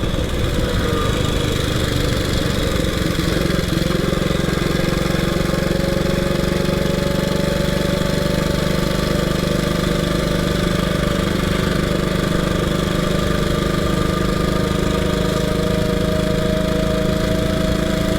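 A 1926 HRD Model 80 vintage motorcycle engine pulls in second gear on the road, a loud, close and steady mechanical drone that holds constant throughout with no speech.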